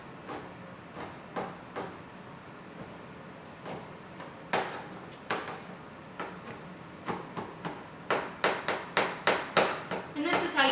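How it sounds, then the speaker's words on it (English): Knife mincing crushed garlic on a cutting board: rapid rhythmic chopping taps, sparse at first then settling into a quick steady run near the end, close and crisp. "And this is how you mince garlic."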